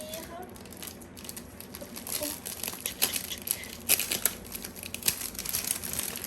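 Crinkly plastic and card packaging of a Star Wars diamond painting kit is handled and opened close by, a steady rustle with sharper crackles and tearing bursts throughout.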